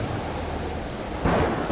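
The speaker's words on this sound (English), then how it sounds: "Thunderstorm." Steady heavy rain and a thunderstorm in the video game Empyrion, a constant dense wash with a low rumble of thunder swelling near the end, with no voices.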